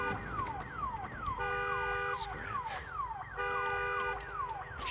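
Car alarm in the video game Days Gone, wailing in a steady repeating cycle of falling electronic tones, loud and continuous with no voices over it.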